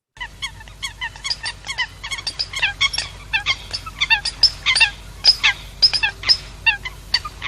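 A flock of American coots calls loudly and close, giving rapid overlapping honking, gobbling notes that rise into a busy, continuous chorus over a low background hum.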